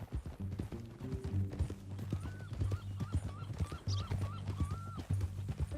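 A horse's hooves clip-clop in a steady walking rhythm in the Western video game Red Dead Redemption 2, close and distinct over low ambient music.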